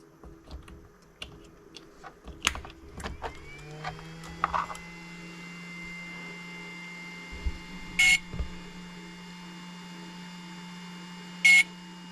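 A Hobbywing XRotor X6 drone motor, just plugged in, sounds a steady faint tone and then two short sharp beeps a few seconds apart, preceded by soft clicks and handling noise.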